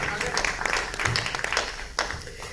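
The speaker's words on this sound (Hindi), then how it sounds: "एक बार थोड़ी सी तालियां बजाएं" Audience applause at a poetry gathering (kavi sammelan) held on the Kumbh: a dense, steady wash of clapping lasting a couple of seconds, with voices mixed in.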